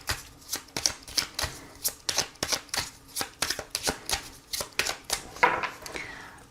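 Tarot cards riffled and cut by hand in a steady rapid run of about twenty crisp, close slaps and flutters, moderately loud, with no voices.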